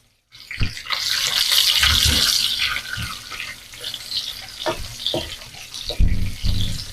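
Coarsely chopped ginger, garlic and onion hit hot ghee with a loud, rushing sizzle that swells and holds, followed by a few knocks and clatters of a spoon in the pot.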